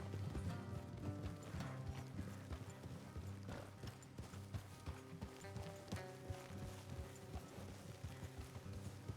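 Horse hooves clip-clopping in Red Dead Redemption 2, a steady rhythmic trot with faint tack and gear rattles, mid-distance and moderately quiet, with game dialogue underneath.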